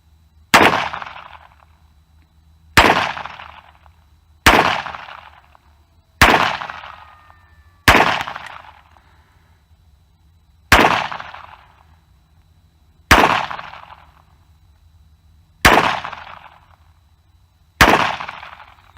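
Nine evenly spaced gunshots from a 9mm handgun at a shooting range, each a sharp loud crack with a short decaying echo, fired one at a time about two seconds apart.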